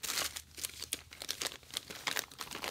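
Thick 3 mil plastic trash compactor bag crinkling and rustling in bursts of sharp crackles, close and moderately loud, with no voices.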